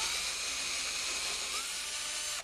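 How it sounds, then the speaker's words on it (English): A drill runs continuously, boring a hole with a small kit bit, a steady high whine held for a couple of seconds before cutting off. "go ahead and drill that first hole"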